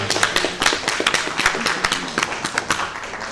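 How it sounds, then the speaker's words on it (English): Applause from the audience at a school board of education meeting, a dense patter of clapping hands that swells and holds steadily throughout, fairly close and loud. "Give a round of applause again,"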